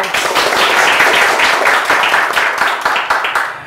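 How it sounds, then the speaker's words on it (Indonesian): Young studio audience of vocational high school students claps together in a loud, close burst of applause with a slightly rhythmic pulse, lasting several seconds before easing off. "Tepuk tangan dulu."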